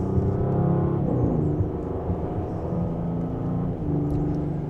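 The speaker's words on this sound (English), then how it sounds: "And with a mild acceleration, we're up to speed." A 2025 Audi S7 Premium Plus in dynamic mode pulls in second gear, its engine note rising steadily as it gains speed, heard from inside the cabin as a close, smooth rumble.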